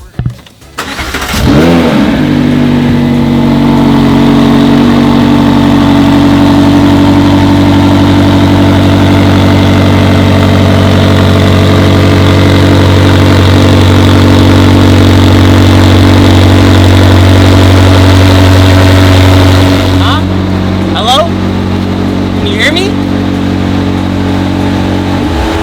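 A McLaren 720S engine runs loud and steady for nearly the whole stretch, a deep sustained drone after a brief start-up, with a short shift in tone near the end and no talking.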